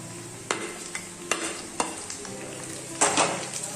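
Capsicum and green chilies sautéing in a pan, a steady close sizzle punctuated by several sharp stirring scrapes and clinks of a utensil against the pan, with a louder burst of stirring near the end.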